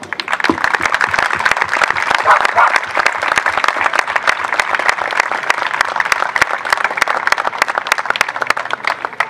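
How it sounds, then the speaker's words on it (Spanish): A crowd claps loudly and continuously at the opening of a municipal beach resort's new season, many hands giving sharp, dense, sustained applause with a faint murmur of voices beneath. "queremos que los aplausos en este momento sean para ellos."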